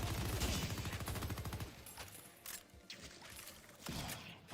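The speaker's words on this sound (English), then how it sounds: "Just straight up shooting through walls." Video-game gunfire rips through walls in a rapid, loud machine-gun burst, then trails off into scattered single shots and mechanical clatter.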